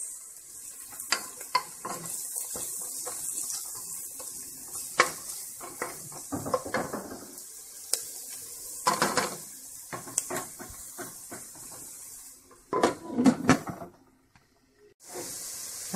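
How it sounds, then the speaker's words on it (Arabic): Sliced button mushrooms sauté in a pan over softened onion, giving a steady, close hiss of frying broken by repeated scraping stirs and light clinks of utensil against the pan, fading near the end. "ها هي الشامبينيون ديالنا تشحر"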